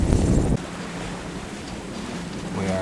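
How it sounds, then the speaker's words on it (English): A boat under tow crosses choppy water on the Alligator River along the Intracoastal Waterway, with a steady wash of water and wind rushing over the microphone and a louder burst of splashing at the start. "We are now crossing the ocean-like Alligator River, still being towed, and it's pretty choppy."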